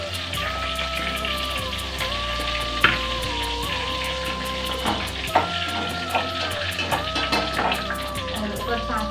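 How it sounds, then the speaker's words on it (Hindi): Cumin seeds and bay leaves sizzle in hot oil for a paneer curry, a steady fizzing crackle with a few sharp pops, heard beneath sustained background tones and a voice speaking. "जीरा और तेज पत्ती ऐड कर रखी है तेल में"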